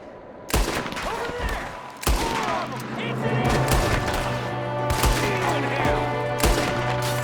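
Gunfire from a building window in a Red Dead Redemption 2 shootout: sharp, loud shots crack at irregular intervals over a steady low droning tone, with a voice speaking in between.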